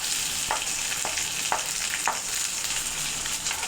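Small onions (shallots) fry with curry leaves and dried red chillies in a pan for sundakkai kuzhambu, a steady close sizzle with a few soft stirring scrapes and no speech.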